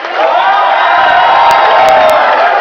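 A wrestling show crowd cheers for the Freebirds at a battle royal event, a loud, continuous roar of voices with whoops and shouts rising over it, close and sustained throughout.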